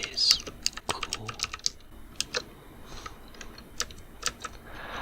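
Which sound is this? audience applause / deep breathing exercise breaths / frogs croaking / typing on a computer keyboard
typing on a computer keyboard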